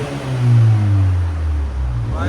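A 2024 Hyundai Sonata N-Line with a 2.5L engine on its stock exhaust revs up and settles back, giving a deep droning rumble that rises, holds and falls, heard close and loud.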